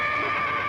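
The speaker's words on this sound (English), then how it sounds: "Well, I thought I heard a horse." A horse gives a short, clear whinny in a rural sitcom scene, one brief call at close range with no talk over it.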